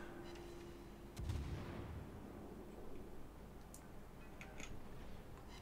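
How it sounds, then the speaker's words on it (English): Naval guns on a warship firing during a video game battle, one heavy booming shot then a lingering low rumble, followed by faint distant ticks and clicks, quiet overall. "unmask the forward guns, get them on target"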